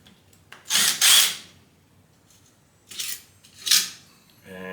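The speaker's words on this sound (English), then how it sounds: "Next we can take off the 2 end caps." A wrench loosens the end cap bolts on a 1980s vintage Craftsman electric motor during a rebuild. Two short bursts of metallic ratcheting sound up close, separated by a quiet pause.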